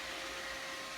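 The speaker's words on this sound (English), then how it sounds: "that is the Roomba. It just entered my craft room." A Roomba robot vacuum cleaner hums steadily indoors in a craft room, a faint, even whir with no other sound.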